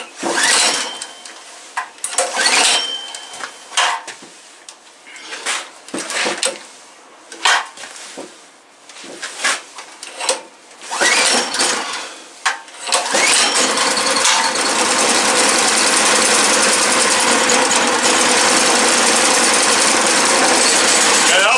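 A Predator 212cc engine fitted to a snow blower sputters and pops through several attempts, with someone talking between bursts, then catches and runs steadily and loudly, close by.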